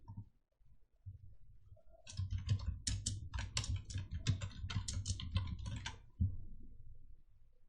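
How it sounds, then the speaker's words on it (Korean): Rapid keystrokes on a computer keyboard while entering text into a PowerPoint slide, a close, busy clatter lasting several seconds after a few isolated clicks, with no speech. "적용을 하신 다음에 타이핑을 해주실게요"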